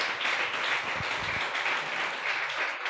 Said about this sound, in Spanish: Rindámosle un fuerte aplauso a nuestro Señor.